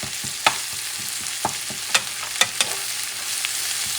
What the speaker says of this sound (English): And now you're going to mix everything